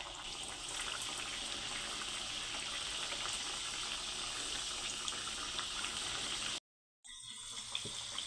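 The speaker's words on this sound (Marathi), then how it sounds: "कचोरी इथे मी तेलामध्ये सोडून घेते" Steady bubbling hiss of kachoris deep-frying in hot oil over a low flame, loud and continuous, with a brief cut to silence near the end.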